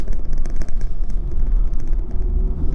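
A 2020 Chevrolet Colorado ZR2 Bison with a Duramax diesel drives along a narrow off-road trail, a loud steady low engine rumble with rough, fluctuating texture.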